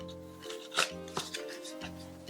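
A wireless computer mouse box being opened by hand, with soft cardboard rubs, scrapes and a couple of light taps, quiet and close over a faint steady background tone.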